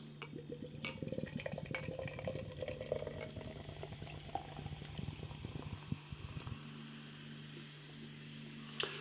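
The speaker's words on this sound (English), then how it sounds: "Lovely carbonation on this one. Give it a bit of a rigorous pour." Craft beer, an apricot Berliner Weisse from a can, is poured vigorously into a glass, fizzing and gurgling up close. A few clinks of glass sound over a steady low hum, with no talk.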